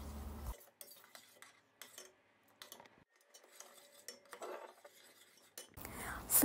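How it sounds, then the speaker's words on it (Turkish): Tomato paste, sweetened with granulated sugar and salted, is stirred with a spoon in a pot as it cooks, giving soft, intermittent scrapes and clinks at low volume with quiet background noise. "Biraz şöyle 1-2 dakika daha karıştırarak pişirme işlemine devam ediyorum"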